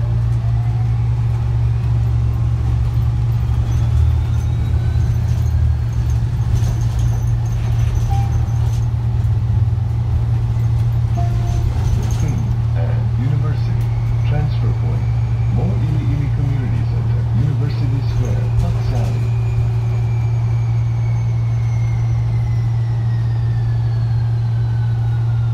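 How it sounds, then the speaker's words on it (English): A TheBus city bus in Honolulu pulls away from a stop, its engine a steady, loud low hum with rising whine tones as it gathers speed, heard from inside over a long stretch with occasional voices. "The bus is departing."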